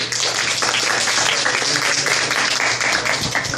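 Dense, steady applause fills a spring banquet hall as attendees clap for a club officer, a continuous wash of many hands over a low background hum.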